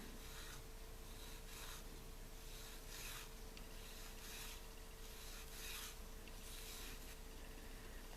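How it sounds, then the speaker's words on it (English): Knife guard rubbed carefully side to side with a narrow strip of Scotch-Brite after a drop of WD-40, a faint, close, regular back-and-forth scuffing over a low steady hum. "I take my Scotch-Brite and then real carefully I go side to side."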